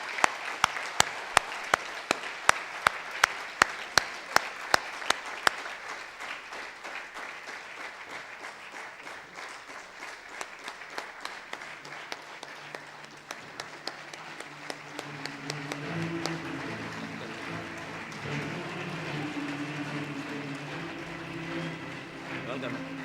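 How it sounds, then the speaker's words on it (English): Audience applause in a conference hall as a guest speaker, Dato Dr. Lim Seo Jin, is welcomed to the stage in Dubai; sharp close claps over a steady crowd clatter, then thinning as a voice begins speaking and music plays. "please welcome Dato Dr. Lim Seo Jin to the stage with a big round of applause"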